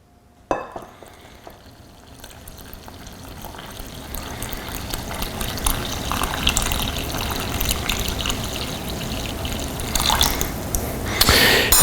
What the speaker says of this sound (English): Then you just make yourself a hole and start pouring your water in.